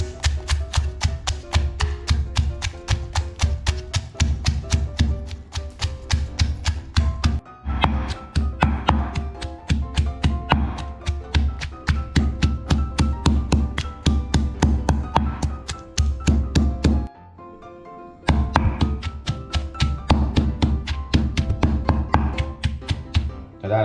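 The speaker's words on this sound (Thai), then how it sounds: "แล้วเราก็ตำให้เข้าเลยนะครับ" Rapid, steady pounding of curry ingredients in a mortar, dull rhythmic thuds repeating for a long stretch with one brief pause partway through.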